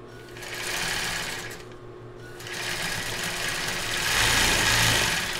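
A sewing machine backstitches at the end of a seam on a child's bra, running steadily with a dense, fast mechanical whirr that pauses briefly and then resumes, close and fairly loud.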